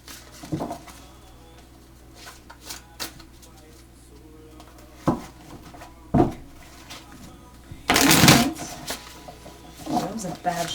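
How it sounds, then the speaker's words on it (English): Tarot cards being shuffled in short papery bursts, several brief rustles and a longer, louder riffle near the end, heard close up with some voice in the background. "That was a bad shuffle."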